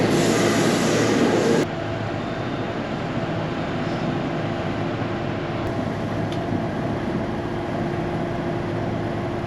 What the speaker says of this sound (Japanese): 電車が入線してきましたので、